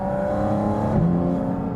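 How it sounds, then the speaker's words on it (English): A Porsche GT4 RS flat-six engine with its mechanical intake sounds loud and near, a steady, dense, gnashing drone that holds at high revs with a slight pitch shift partway through. "You hear that mechanical intake like a gnashing noise right behind you"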